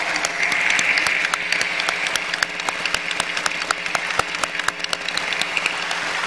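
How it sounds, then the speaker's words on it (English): A large assembly applauds warmly to welcome an honored couple on stage, a steady roar of clapping with sharp individual claps standing out, continuous and loud with no voices over it. "let us welcome our true mother, our true parents, with a warm round of applause"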